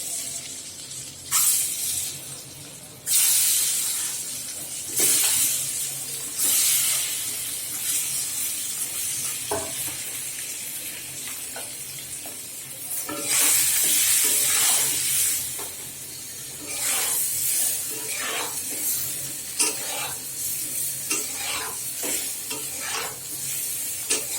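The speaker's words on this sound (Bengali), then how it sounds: "ডিমগুলি ভাজবো আমি এখানে" Eggs seasoned with turmeric, salt and chili powder fry in a pan for a Bengali egg roast, giving a steady close sizzle with repeated scraping stir strokes and bursts of spattering hiss, no voices.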